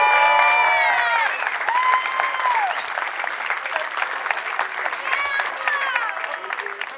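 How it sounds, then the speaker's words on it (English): Audience applause at a cadet drill competition during a family weekend event: steady, dense clapping from a crowd, loud and continuous throughout with slight swells. "applause for Alpha Troop."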